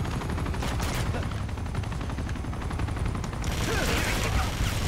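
Gunfire in the video game Uncharted: Drake's Fortune rattles nonstop in rapid automatic bursts, loud and close over a dense, noisy game backdrop.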